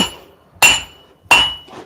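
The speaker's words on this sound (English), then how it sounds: "with a smaller hammer, I have a lot more control" A small hammer strikes a steel dagger blank at the forge in two sharp ringing blows, with a fainter third tap at the end.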